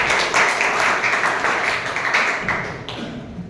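An audience at a Toastmasters club meeting claps steadily, a dense patter of hands at moderate volume that slowly fades over a few seconds, with no speech over it.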